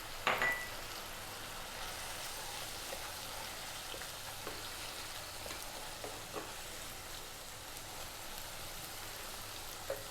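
Chili powder, coriander, cumin and turmeric fry in a pan for a mushroom potato curry, with a steady soft sizzle and a few faint clinks, with no talking.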